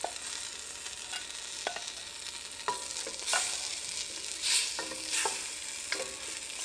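Diced tomatoes and a can of Rotel stirred into a pot for albondigas soup, with low sizzling and repeated spoon scrapes and clinks against the pot, close and fairly quiet, with no talking.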